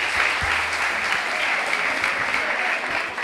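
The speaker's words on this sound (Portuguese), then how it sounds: "Aplausos pro Ganga G." Audience applause at a rap battle event, a dense, steady wash of clapping that stays loud and continuous throughout, with no speech over it.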